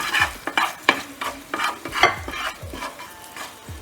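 Spices fry in oil on a medium flame under a constant sizzle, broken by repeated sharp scrapes and knocks of a spoon stirring the pan in an irregular rhythm.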